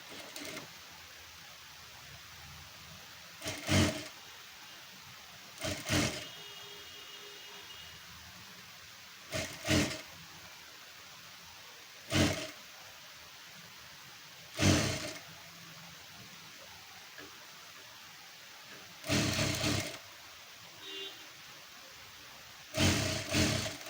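A sewing machine stitches cloth in short, separate bursts spread over a quiet room, each run of stitching brief and moderately close, with long near-silent gaps between them and no voices.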